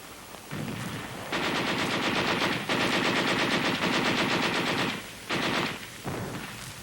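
Heavy machine guns fire in a World War II US Army training exercise, loud sustained rapid bursts of gunfire near the microphone, broken by short pauses between several long volleys, with no talking.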